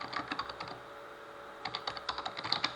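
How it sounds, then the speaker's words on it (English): Rough, uneven typing on a computer keyboard, two bursts of rapid close clicks separated by a short pause, with no talk. "Sorry about the rough typing."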